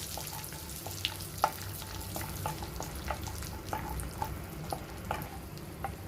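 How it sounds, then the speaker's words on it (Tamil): Cashew nuts frying in a pan for bread halwa give a steady, moderate sizzle, punctuated by occasional light clicks and scrapes as they are stirred, with no voices. "கேஷ்யூ நட்ஸ், அதாவது முந்திரியை நம்ம போடணும். அதில் போட்டு நல்லா வறுக்கணும்"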